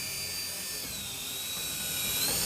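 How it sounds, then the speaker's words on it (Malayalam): A remote-controlled toy helicopter runs after being switched on, its small motor giving a steady high-pitched whine with a faint rising tone, close and alone without talk. "ഹെലികോപ്റ്റർ ജസ്റ്റ് ഒന്ന് ഓണാക്കി കാണിച്ചു തരാം."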